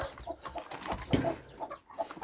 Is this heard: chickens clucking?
yes